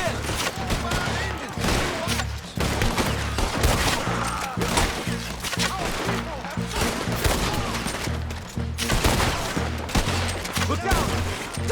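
Heavy gunfire in a shootout from Red Dead Redemption 2: dense, continuous volleys of rifle and pistol shots crack and boom over one another for the whole stretch, loud and close, with shouting voices mixed into the battle.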